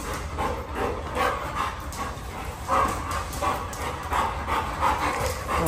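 Several dogs bark and yip in a loud, continuous commotion nearby, with whimpering and panting mixed into the din, no speech.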